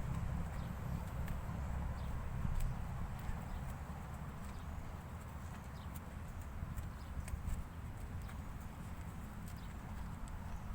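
Horse hooves walking steadily over ground during ground work with a stallion-bred horse about 145 cm tall, faint and continuous clip-clop under a low rumbling background with occasional bird sounds.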